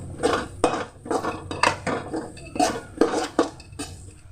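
Dried dates being mixed into a mixture in a pot with a metal spoon give a close, rhythmic series of clinks and scrapes against the pot, about a dozen strokes in quick succession.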